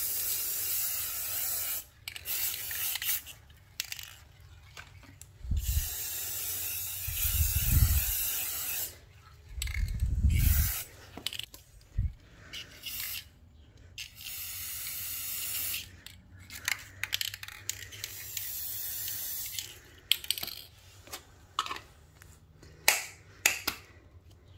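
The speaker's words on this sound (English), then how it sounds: "Here's some spray painting ASMR for you." Spray paint hissing from a can through a stencil on a craft project, several separate bursts of varying length with quiet pauses and soft rustling between, close and fairly loud, no talk.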